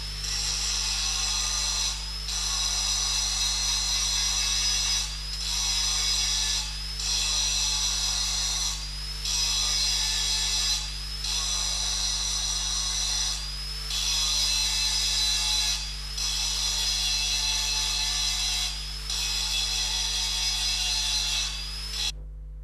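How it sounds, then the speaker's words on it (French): An angle grinder grinding down leftover weld spots on butt-welded flat sheet steel after MAG welding gives a loud, continuous high-pitched whine that pulses in repeated passes, steady and close. "on meule le reste des points"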